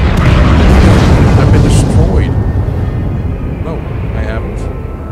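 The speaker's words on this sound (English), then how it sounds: "Yep, ship destroyed." A spaceship explodes in the space game Elite after its hull fails, a loud sustained boom and roaring rumble that slowly fades, with a few faint chirps near the end.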